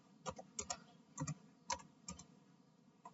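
A computer keyboard clicks in a short, uneven burst of keystrokes as a command is typed on a Debian server setup, quiet and close, with no speech.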